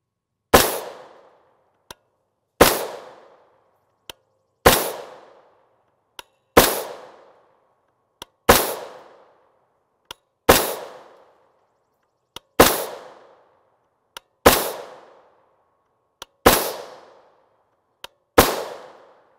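Subsonic 300 AAC Blackout rifle fired from a 10.5-inch AR upper fitted with a three-port muzzle brake, nine sharp, loud shots spaced about two seconds apart, each with a short decaying echo, and no talking.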